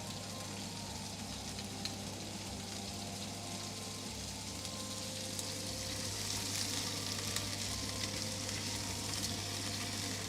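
Beef for a Beef Wellington searing in a pan, a steady soft sizzle and crackle heard alone at a moderate distance, with a low hum beneath and a slight swell in the hiss toward the end.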